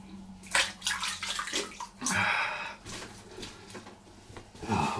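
Tap water running while hands are wetted before a wet shave, a close splashing flow with irregular surges and light handling noises, no talking.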